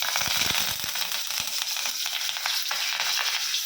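Mustard seeds, cumin and curry leaves sizzle and crackle in hot oil, a dense steady frying hiss punctuated by sharp popping spatters, close and continuous without any voices.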